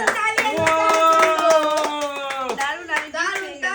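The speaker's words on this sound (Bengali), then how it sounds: "দারুণ দারুণ তালিয়া" Hands clap in a quick, steady burst of sharp slaps during a bottle flip challenge game at home, mixed with excited vocal exclamations nearby.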